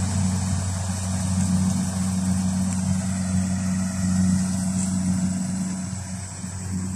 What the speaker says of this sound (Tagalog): Yun yung maghahakot yung harvest, yung traktora na yun.